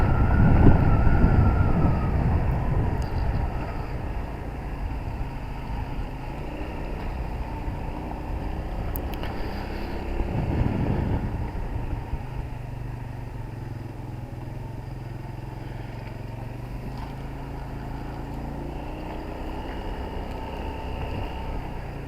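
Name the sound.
Habana 125 motorcycle on road test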